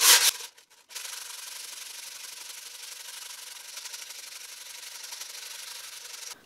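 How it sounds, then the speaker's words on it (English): Metal is hand sanded with coarse 46 grit sandpaper, producing a steady, rhythmic rasping scratch of close back-and-forth strokes after a short loud rub and pause at the start. "we're going to use some 46 grit sandpaper"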